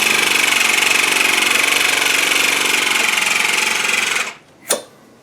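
A vacuum sealer pumps air out of a food storage bag of dehydrated potatoes, a steady, loud mechanical hum that runs several seconds, then cuts off, followed by a brief click.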